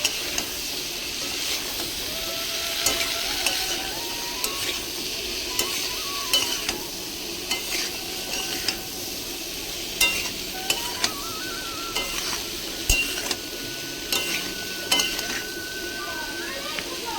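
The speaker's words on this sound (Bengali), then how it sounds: "এবার আমি পুঁইমিটুরিটাকে তেলের মশলার উপরে দিয়ে দিয়েছি এবার আমি ভালো করে নাড়িয়ে কষিয়ে নেবো" Malabar spinach stems sizzle and crackle steadily in hot spiced oil as a spatula stirs and scrapes the pan with frequent clicking knocks, with no voice over the frying.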